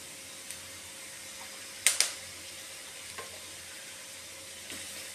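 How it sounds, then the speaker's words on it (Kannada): Onions and garlic fry in oil in a pan, a steady soft sizzle with a few sharp clicks of a utensil stirring against the pan, fairly quiet throughout. "ಇದನ್ನು ಆಯಿಲ್ನಲ್ಲಿ ಚೆನ್ನಾಗಿ ಫ್ರೈ ಮಾಡ್ಕೋಬೇಕು"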